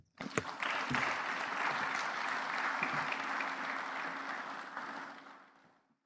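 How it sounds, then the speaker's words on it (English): Audience applause at the Lagos Business School Executive Programmes graduation ceremony, a steady broad wash of many hands clapping that starts sharply, holds evenly for several seconds, then fades away. "One more time, let's give Professor Olainka a round of applause"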